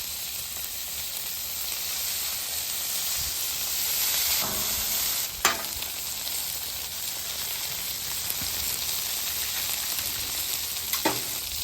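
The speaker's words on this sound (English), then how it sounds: "You're basically deep frying or shallow frying your potatoes," Steady, close sizzling of potatoes shallow frying in hot oil on a Weber griddle, a constant bright crackle with a couple of sharp clicks and scrapes partway through.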